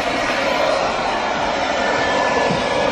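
Small battery-powered leaf blower running on a garden patio, a loud steady airy whoosh held close and unbroken for the whole stretch.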